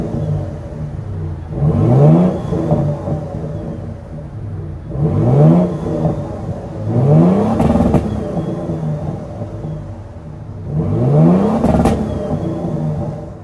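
Revving of a 2024 Toyota Tundra TRD Pro's 3.4 liter twin turbo hybrid V6 with active exhaust, four loud rising blips spaced a few seconds apart, each falling back to a steady idle, heard up close with no talking.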